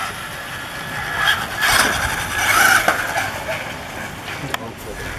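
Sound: Traxxas Bandit RC car driving on road

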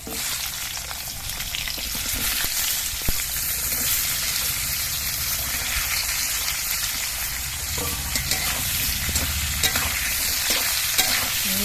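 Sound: potatoes and vegetable stems frying in pan, being stirred

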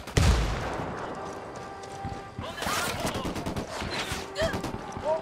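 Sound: gunfire in Ghost Recon video game

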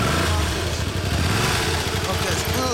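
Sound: 2013 Honda CBR400R motorcycle engine idling

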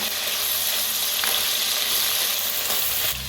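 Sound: peas and curry leaves frying in a pan

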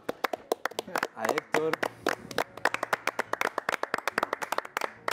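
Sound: applause, clapping for an actor

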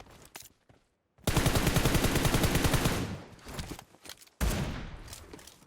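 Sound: gunfire in PUBG Mobile video game

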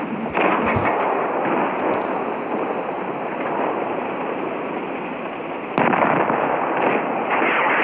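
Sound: tank cannon firing in World of Tanks Blitz video game

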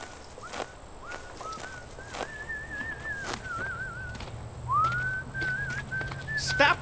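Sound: human whistling

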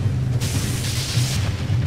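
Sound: explosion from boss ground-stab attack in Dark Souls video game

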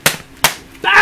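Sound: Sunkko spot welder firing with a loud bang

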